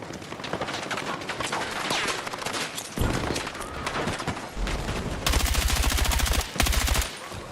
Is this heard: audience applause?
no